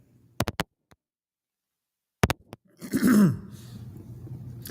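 A few short, close coughs and throat-clearing bursts in a quiet room, separated by silence, followed by a brief muffled vocal sound.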